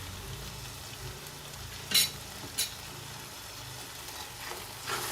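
Chhole chickpea curry with fresh coriander being stirred in a pan over a gas flame, a quiet soft sizzle broken by a few sharp scraping clinks of the spoon.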